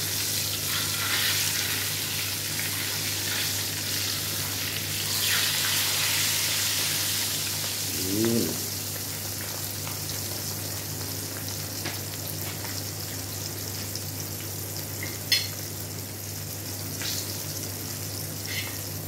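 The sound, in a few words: frying dried fish (tuyo) in a pan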